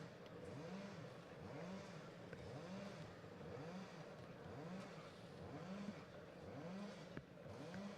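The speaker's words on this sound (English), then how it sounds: "You can hear engines revving away in the background." Racing kart engines on the pre-grid at the Rowrah circuit, during a round of the Ultimate Karting Championship, rev up and down in a steady repeating rhythm, faint and distant, with no talk.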